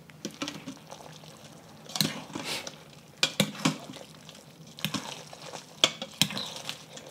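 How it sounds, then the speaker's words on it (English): Spaghetti and meatballs being stirred in a single pot: quiet, irregular clinks and scrapes of a utensil against the pot, with a few sharper knocks and soft wet sloshing, heard close up and with no talking. "just give this a good stir and let it sit for one more minute"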